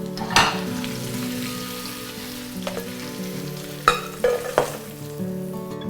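Mango pieces fry in oil in a pan with a steady soft sizzle, broken by a few sharp clinks and stirring scrapes, close up and with no talking.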